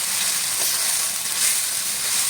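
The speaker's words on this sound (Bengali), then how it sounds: "এবার মশলাটা ভালো করে কষে নেব।" Spice paste with Kashmiri chilli powder frying in a pan for a spiny eel (baim fish) curry, giving a loud, steady, close sizzle throughout.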